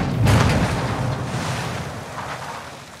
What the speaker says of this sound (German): Sprengen den Brückeneingang auf.